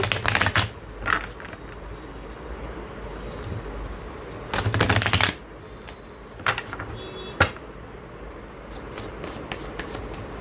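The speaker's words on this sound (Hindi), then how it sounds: "तो पहले हम थोड़ा सा शफल कर लेते हैं कार्ड्स को।" Tarot cards are shuffled in several quick riffling bursts, crisp and close, separated by pauses with soft card taps and handling clicks.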